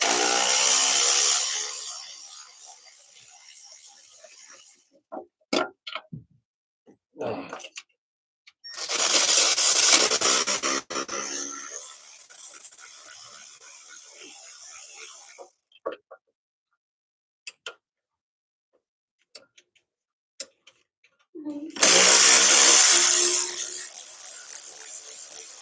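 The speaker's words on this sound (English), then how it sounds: "Taking the bolts out of the intake manifold." Bolts come out of a car's intake manifold during an intake gasket repair: bursts of a power ratchet or impact tool buzzing, separated by silences and scattered clicks and taps.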